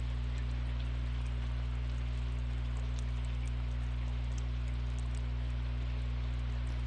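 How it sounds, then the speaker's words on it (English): Steady rain hisses continuously in a video game, a dense even wash of falling drops over a low constant hum, with no talk. "It's raining."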